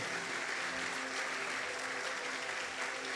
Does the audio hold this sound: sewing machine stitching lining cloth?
no